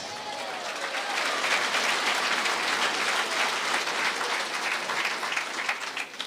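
A church congregation applauds steadily, a full, sustained wash of many hands clapping together at close range with no talking over it.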